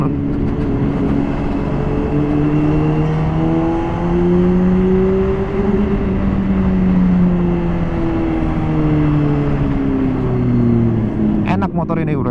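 Riding a Honda CBR 600RR HRC Edition fitted with an Akrapovic full-system exhaust, the engine drones smoothly and steadily, pitch easing up and down with throttle amid wind rush, while the rider talks.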